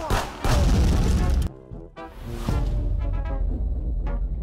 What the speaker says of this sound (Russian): Все, он горит, он сейчас взорвется нахрен.